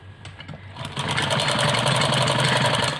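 A sewing machine stitches a ladies' salwar, starting after a brief pause and then running in a fast, steady mechanical whir up close with rapid needle rhythm, no voices.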